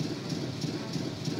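A train rolling along in the video game Banjo-Tooie, a steady, dense rumble with a faint regular rhythmic beat, continuous and alone without talk.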